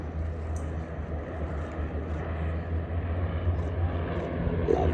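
A de Havilland Moth Major propeller plane passes at the Duxford Battle of Britain airshow, its engine drone steady and moderately loud throughout, rising slightly toward the end, with a commentator's voice over the public address.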